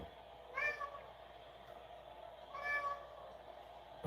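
A cat meows twice, each call a short rising-falling tone about two seconds apart, fairly close over a steady low room hum during a football watch party.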